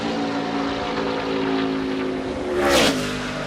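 A NASCAR Sprint Cup stock car engine at full throttle on a qualifying lap at the Southern 500, a steady loud roar that swells and briefly sweeps up in pitch as the car passes close by.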